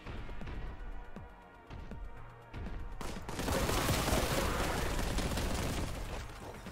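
Plasma gun firing in the Warhammer 40,000 Boltgun video game, a rapid run of sharp shots followed by a loud, sustained explosive roar that fills the rest of the clip.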